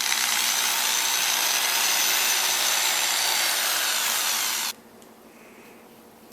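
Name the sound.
power drill drilling into a pumpkin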